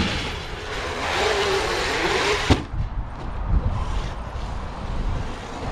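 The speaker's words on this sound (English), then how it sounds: "Just going to have another go with the X-Maxx, I think" A Traxxas X-Maxx RC car drives with a loud, steady motor whine over heavy wind rumble, then a sharp knock partway through as the motor noise drops and surges again.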